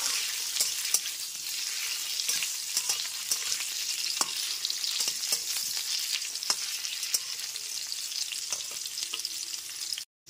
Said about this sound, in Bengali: গ্যাসের ফ্লেমটা মিডিয়ামে রেখে আলুগুলোকে ভেজে নেব।